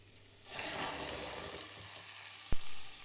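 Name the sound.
vegetables frying in a pan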